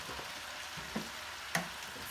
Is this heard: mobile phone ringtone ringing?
no